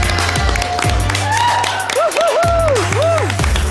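Audience applause at an awards ceremony, continuous clapping with cheering and whoops, a sustained tone and bursts of music over it.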